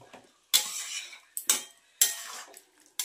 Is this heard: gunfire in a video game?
no